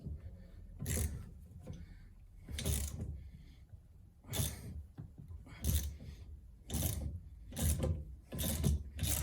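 Ratchet tool being tightened on a puller to remove a crankshaft bearing from a 1991 Polaris Indy 500, repeated bursts of loud clicking ratchet strokes separated by short pauses, close up.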